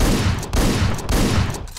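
Shotgun blasts from the video game Hotline Miami: three loud, booming shots spaced about half a second apart, each with a brief tail.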